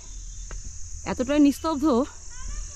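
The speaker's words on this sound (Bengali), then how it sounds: "দারুণভাবে ঝিঝি পোকার ডাক শুনতে পাওয়া যাচ্ছে" Crickets chirp in a hillside pine forest at Lepchajagat near Darjeeling, a steady, continuous high trill that runs throughout while someone speaks briefly over it.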